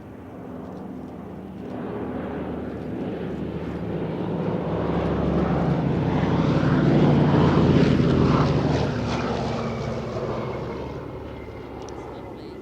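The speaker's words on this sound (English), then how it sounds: "The Republic P-47D Thunderbolt and an Australian-built version of the North American P-51D Mustang forming up on the B-17." Warbirds at an airshow, a Republic P-47D Thunderbolt, a North American P-51D Mustang and a B-17 Flying Fortress, flying in formation, propeller engine drone swelling as they pass nearer then fading, a steady broad roar.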